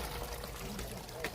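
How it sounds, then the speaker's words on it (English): Water from a high water table flows steadily out from under a concrete inground swimming pool, a continuous pouring trickle like a small stream, heard close up and moderately loud. "the water is just flowing like a river"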